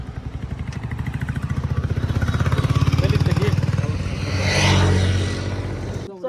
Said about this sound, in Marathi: ते गाडी चालू ठेव